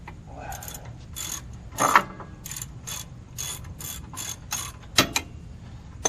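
A ratchet wrench loosens bolts on the rear brakes of a Toyota 4Runner, sharp bursts of clicking repeated in short runs with pauses between, close and clear.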